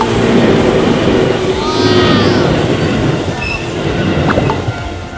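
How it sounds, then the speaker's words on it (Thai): A train passes close by on an Osaka rail line, its steady rumbling roar filling the scene with brief wheel squeals and faint clatter near the end. "เราดูภาพรถไฟผ่านไปด้วยกันเลยนะครับ"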